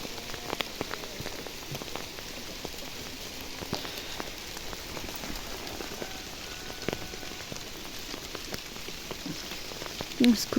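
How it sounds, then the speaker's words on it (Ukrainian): Mid-October hail in the Kyiv region, steady close pattering of many small stones with frequent sharp ticks, continuous and even in loudness, with no voices. "Знов пускається град."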